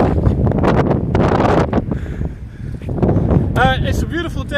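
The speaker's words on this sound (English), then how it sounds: "It's a bit windy." Wind gusts buffet the microphone outdoors on the South Wales coast near a lighthouse, a loud, rough rumble that rises and falls under a man's speech.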